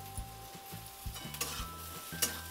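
Onion, garlic and ginger stir-frying in a pan, with a steady soft sizzle under repeated rhythmic scrapes and taps of a spatula, close and moderately quiet.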